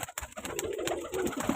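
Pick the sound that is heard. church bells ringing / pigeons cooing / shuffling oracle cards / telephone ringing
pigeons cooing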